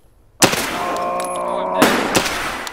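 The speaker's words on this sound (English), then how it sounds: "Flashbang out." Flashbang grenade going off in the shooter game Escape from Tarkov, a sudden loud blast followed by a sustained ringing tone with sharp crackling shots layered on top.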